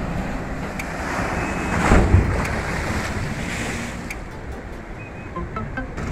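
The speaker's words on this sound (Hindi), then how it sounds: "पानी का वेव्स देख सकते हो आप कितना ज्यादा है" Heavy seas whipped up by Cyclone Tauktae on the coast, a dense, continuous roar of waves and gusting wind hitting the microphone, swelling loudest near the start.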